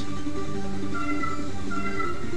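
Cats meow continuously in a Flash video game, a loud and steady electronic-sounding mewing that fills the whole stretch with no talking over it.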